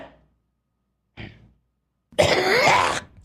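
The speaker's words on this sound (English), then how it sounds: "God damn, this cough." A person coughs and clears their throat: a short faint cough, then a louder, rougher throat-clearing burst lasting about a second, close by with no talk.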